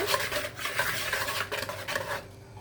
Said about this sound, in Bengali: শুকনো উপকরণটাকে আমি ভালো করে মিশিয়ে নেব।